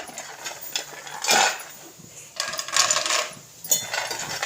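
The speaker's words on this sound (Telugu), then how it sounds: "ముందుగా కొన్ని పల్లీలు వేస్తున్నా" Peanuts dropped into hot oil in a pan make several bursts of crackling sizzle with clinking against the metal, close by and fairly loud, separated by brief quieter gaps.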